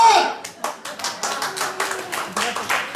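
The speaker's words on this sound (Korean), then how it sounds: "박수 한번 쳐드리겠습니다" Church congregation clapping in distinct rhythmic bursts, roughly a dozen sharp, evenly spaced claps of many hands together, close and fairly loud, with voices mixed in between.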